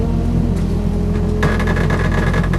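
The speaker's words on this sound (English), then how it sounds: "See, the Volvo is going well." A Volvo car drives past with its engine revving, a loud steady mid-range roar that rises sharply in intensity about halfway through and holds, close and continuous with no voices.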